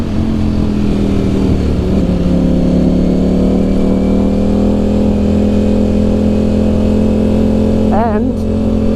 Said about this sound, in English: that signature V4 note with the Ducati, so easy to listen to.